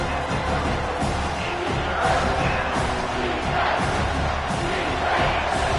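A large football stadium crowd roars steadily behind the defense on a big third down, a loud continuous wash of cheering and shouting with no clear breaks.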